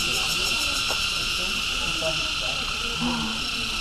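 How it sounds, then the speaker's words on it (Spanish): Cicadas chirp among the imperial tombs in Hue, Vietnam, making a steady, shrill, continuous buzz throughout, with faint scattered background sounds underneath. "Escuchen el sonido de las chicharras."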